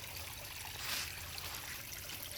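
Steady water trickling over smooth, worn stone along a nature trail at the San Diego Zoo Safari Park, a continuous soft hiss and babble with no voices, fairly faint and even throughout.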